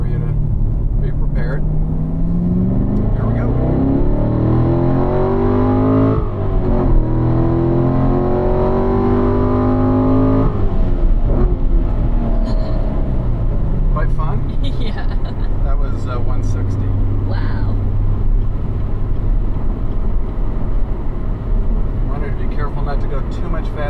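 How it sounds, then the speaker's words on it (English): A 2015 Chevrolet Corvette accelerating hard onto a freeway, heard from inside as the engine note climbs through rising gear pulls with shifts between them, loud and close, with people talking over it. "we're going to get on the freeway here, and I'm going to hit the gas"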